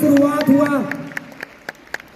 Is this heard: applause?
yes